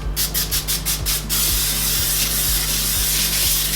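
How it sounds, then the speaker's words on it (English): Several quick hissing bursts of cooking oil spray onto a baking tray in a row, followed by a steady low rumble with faint rhythmic thumps. "Now for this not to stick, we actually are going to spray it a little bit."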